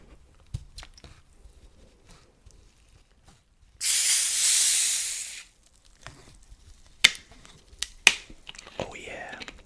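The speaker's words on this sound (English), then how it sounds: "let's just open it up and pour it into the glass" A fizzy drink bottle is opened and poured into a glass during a Papa John's pizza mukbang, a close, loud hissing fizz lasting about two seconds, followed by soft clicks and small handling noises.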